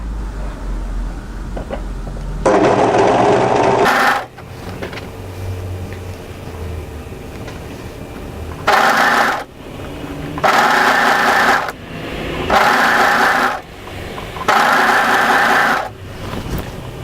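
Sewing machine running down the side seam of a knit tee dress, in several separate loud bursts of steady whirring stitching with quiet pauses between them, no talking.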